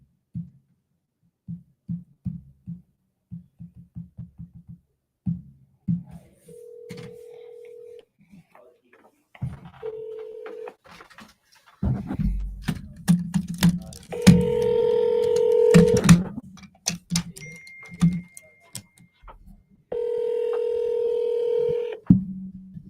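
A telephone call is placed: a quick run of close dialing tones, then steady ringback tones repeating at intervals while the line rings.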